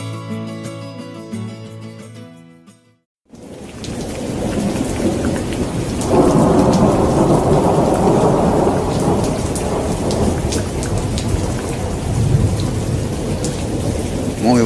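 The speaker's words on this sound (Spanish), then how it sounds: "en una jornada de absoluta lluvia" A heavy thunderstorm pours down after a short musical opening, with a dense, steady roar of rain and deep rolling thunder swelling midway, loud and close throughout.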